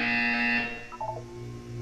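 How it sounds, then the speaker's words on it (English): A harsh electronic buzzer from the video game Portal 2 sounds loud and steady for about half a second, then a short lower tone follows amid a faint background hum. "When you hear the buzzer, look down at the floor."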